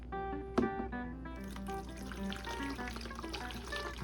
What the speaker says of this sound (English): Just fill that full of water.